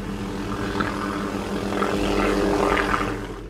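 A low-flying military helicopter over Somalia passes with a steady, loud rotor thrum and engine roar that swells and fades slightly, heard alone without voices.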